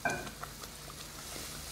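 Soft scraping and stirring of cornmeal halwa with water in a pan, a few light clinks at the start, then quiet steady swishing, faint and close.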